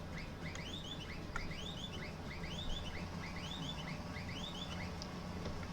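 An old tractor's horn in Farming Simulator chirps in repeated quick, bird-like bursts, several rising warbles at a steady rhythm over a constant low idling engine rumble.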